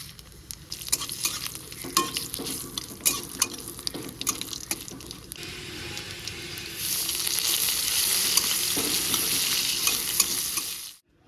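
Bay leaf, dried chili and cumin crackle in hot oil with stirring scrapes, then a loud, steady hiss swells and holds before cutting off abruptly; close and continuous, with no talking.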